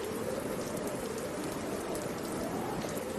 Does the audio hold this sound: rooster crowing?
no